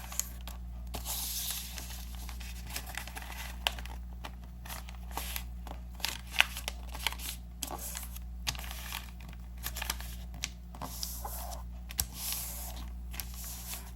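Sheets of paper being folded in half repeatedly for an origami hat decoration, soft scattered crinkles and crisp creasing taps over a quiet steady hum, close and faint.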